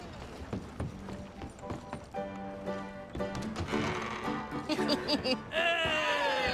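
Horse hooves clip-clop at a steady trot in Red Dead Redemption 2, mixed with game music and ambient sound while a voice talks over them.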